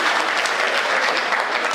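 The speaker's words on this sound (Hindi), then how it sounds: "तालियां जल्दी बजा दी" Audience applause at a Hindi comic poetry gathering, a loud, dense burst of many hands clapping for under two seconds.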